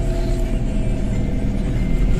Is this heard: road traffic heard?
yes